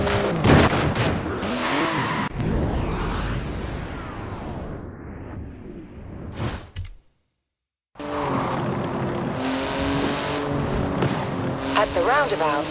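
A 3.8-litre twin-turbo flat-six car in Forza Horizon 4, engine roaring loud and close, revving and shifting, with a brief dropout to silence before it resumes; a voice talks over it.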